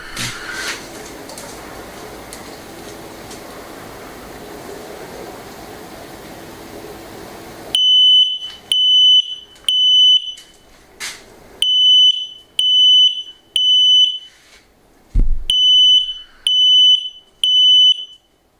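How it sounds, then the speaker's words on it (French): A smart smoke detector in a renovated house sounds its alarm during a test: after a stretch of low background hum, loud, sharp, high electronic beeps repeat in quick, evenly spaced bursts, roughly ten pulses in a steady rhythm. "l'appareil s'est déclenché, donc là j'ai réduit au silence pour arrêter qu'il bip"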